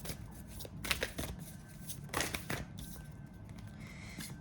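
Oracle cards being shuffled by hand, several close, papery riffling bursts separated by short pauses, with low room noise underneath.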